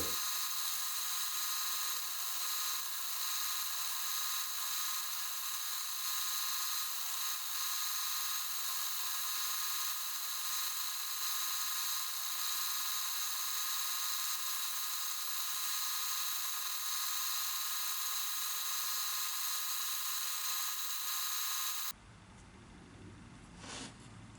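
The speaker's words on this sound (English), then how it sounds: "to make these rounded features here, I think I will do it on the belt sander" Belt sander shaping rounded features on a white plastic part, a loud steady high-pitched whine running continuously at close range before cutting off abruptly near the end.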